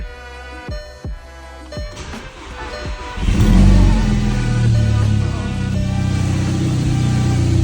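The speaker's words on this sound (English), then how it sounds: "We are going to start off the video with a little cold start." A car engine cold start: a few sharp cranking clicks and pulses give way at about three seconds to the engine catching and settling into a steady, fairly quiet idle, heard close by.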